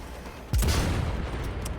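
Weapon gunfire in the video game Cyberpunk 2077: a single loud, booming shot that hits suddenly and then trails into a dense, noisy rumble that lingers to the end.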